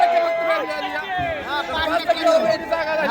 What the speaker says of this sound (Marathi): फुल गर्दी फुल राडा आहे.